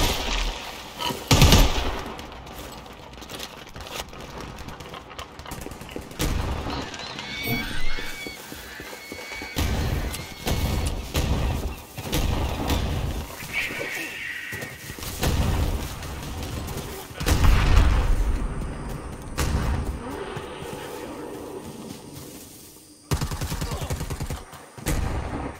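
Dense video game gunfire in a pirate setting facing predators, with sustained loud volleys and bursts over a busy, cluttered mix of other game effects that rises and falls across the stretch.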